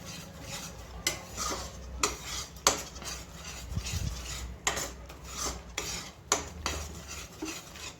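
A Mysore pak mixture is worked by hand in a pan while oil is poured in, giving continuous rasping scrapes with sharper clacks every second or so, close and steady, with no talk.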